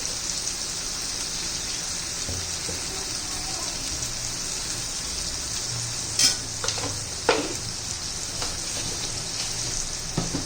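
Brinjal and potato masala stir-fried in a pan with salt, a steady soft sizzle broken by a few sharp scrapes of a spatula against the pan near the middle, no voices.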